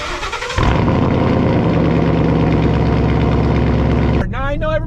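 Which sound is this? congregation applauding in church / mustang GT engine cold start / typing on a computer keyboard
mustang GT engine cold start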